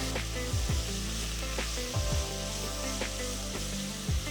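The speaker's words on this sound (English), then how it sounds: "Saute the potatoes for about 2 minutes." Potatoes sautéing with ginger garlic paste and salt in a pan sizzle steadily and close, with repeated scraping strokes of a spoon stirring through the mix.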